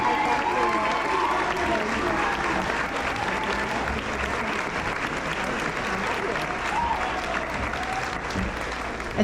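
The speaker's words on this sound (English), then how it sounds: "A standing ovation that speaks volumes itself." Sustained applause from a graduation ceremony audience giving a standing ovation, a dense steady roar of clapping hands filling the hall, with crowd murmur and voices mixed underneath throughout.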